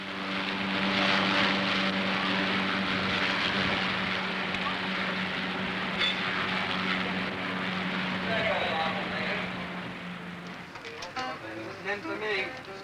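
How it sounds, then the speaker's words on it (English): A Fairey Gannet propeller aircraft flying mail onto the carrier HMS Eagle in 1966, heard as a steady, moderately distant engine drone throughout, with someone narrating over it. "the mail is flown on board by the ship's gannet"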